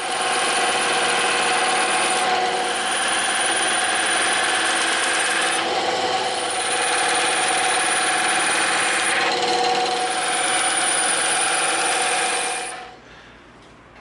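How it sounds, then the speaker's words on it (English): A bandsaw cuts through EVA foam with a loud, continuous whining drone and a broadband cutting hiss that swells and eases slightly as the blade moves. It runs steadily for about twelve seconds before the sound drops away. "we're going to move over to the bandsaw and we're going to cut this out"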